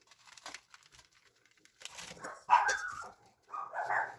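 Dogs barking indoors, a few muffled, scattered barks and yips growing louder toward the end, mixed with rustling.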